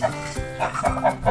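Hubbard chickens clucking in short repeated bursts, fairly close, several calls overlapping through the brief stretch with no talk.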